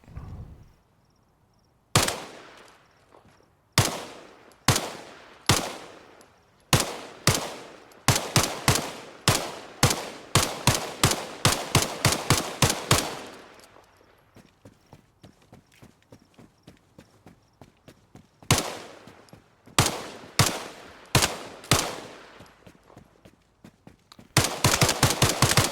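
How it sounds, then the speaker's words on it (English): A weapon is test-fired in the Arma Reforger Enfusion tools, with crisp single shots sounding alone against near silence, first spaced out, then in quick runs, then pausing and resuming, each shot followed by a short decay. "Test single shot."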